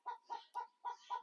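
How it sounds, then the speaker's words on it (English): Chickens clucking nearby in five evenly spaced, rhythmic calls, moderately loud and with no talking. "I think the chickens are mad at me."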